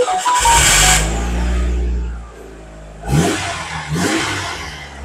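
A Mitsubishi Lancer Evolution VI TME's turbocharged engine pulls hard with a loud, deep, bassy roar, eases off, then rises again in two more surges. It is close and fills the scene with no talking.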